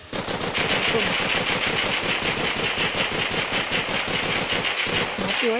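Rapid automatic gunfire from a favourite weapon in the video game Gorebox, loud continuous bursts of shots followed by short mechanical reloading clicks at the end.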